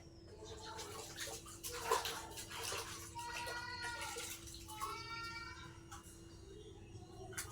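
Water runs and splashes steadily while massage cream is rinsed off a face at home, a close continuous wash with a low hum beneath and brief higher squeaks scattered through.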